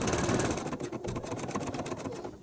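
A sewing machine stitches a blind hem along the edge of dress pants, running in a quick, steady mechanical whir with a fine rhythmic needle pulse, close and moderately quiet, with no voices.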